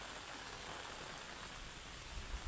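Steady, even hiss of rain falling at Thaboor Hills across the whole moment, soft and continuous with no voices.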